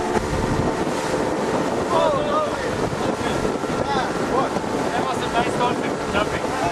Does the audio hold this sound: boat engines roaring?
yes